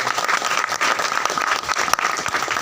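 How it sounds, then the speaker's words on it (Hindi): Hearty audience applause at an RCM Business training and celebration program in Pihani, a dense, continuous crowd of clapping hands throughout. "आज आप आ चुके हैं तो एक बार अपने लिए जोरदार तालियों का स्वागत करेंगे"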